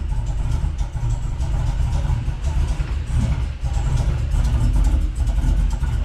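A turbocharged GMC engine idles close by with an uneven, loping rhythm, its deep exhaust pulses rising and falling steadily in an untuned idle.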